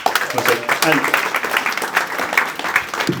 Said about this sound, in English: A round of applause for Marcus.